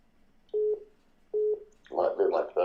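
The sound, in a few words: phone tones, telephone dialing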